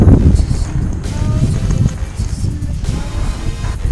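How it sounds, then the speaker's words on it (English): Strong wind buffets a microphone outdoors at a racetrack, a loud, continuous low rumble with gusting surges. "The wind is strong."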